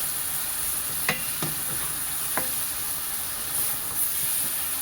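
Bagoong frying in a pan for Bicol express, a steady broadband sizzle and hiss with a few sharp utensil clicks against the pan, close and continuous, no talking.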